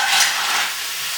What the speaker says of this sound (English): And then I'm going to take the mussels and get them in the pan.